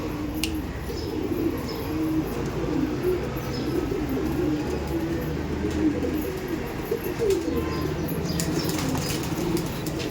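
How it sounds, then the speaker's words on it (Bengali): Active pigeons at a loft keep up a constant low cooing murmur with bursts of wing flapping, a busy flock heard close throughout. "পায়রা দেখছেন, একদম অ্যাক্টিভ পায়রা।"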